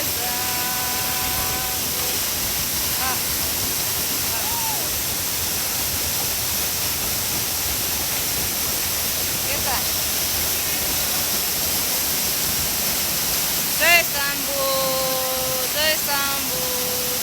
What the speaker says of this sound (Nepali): यहाँ हेर्नु त कहाँ यो ढुङ्गाको बिचबाट पानी आएको